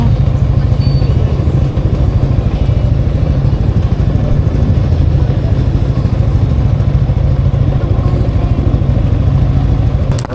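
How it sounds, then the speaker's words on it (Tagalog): Many motorcycles pass along a road in a dense, continuous engine roar with rattling clatter, loud and steady throughout with no talking. "Oh, puro mga motor ngayon ah."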